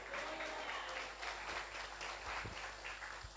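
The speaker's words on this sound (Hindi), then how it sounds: "जोर से और जोर से ताली बजाओ" A church congregation claps hard and continuously during worship, a loud, even roar of many hands with no pauses.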